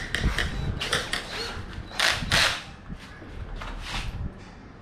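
An 8 mm wrench loosens nuts on the tub of a Toshiba inverter 12 kg washing machine (AW-DC1300WT), giving close bursts of ratcheting clicks and metallic rattles in uneven groups.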